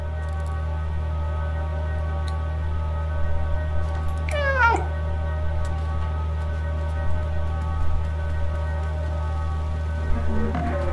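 Meowing cat in the video game Stray: one clear, wavering meow near the middle and a shorter one close to the end, over a steady humming game ambience, with no talk.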